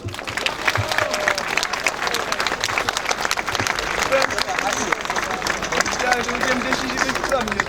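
A crowd at an anti-immigration street demonstration in Warsaw claps thanks to the performers, a sustained dense burst of applause mixed with loud talk and murmuring voices throughout.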